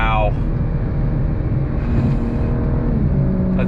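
A 2022 BMW M4 Competition accelerates on throttle, its engine drone rising loud and close from the cabin with quick gear shifts breaking the pitch, while someone talks over it.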